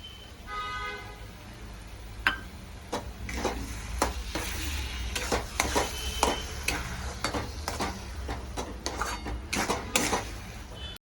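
A spoon scraping and stirring thick mango sheera in a pan after mango juice is poured in, with irregular clinks and scrapes over a soft sizzling background.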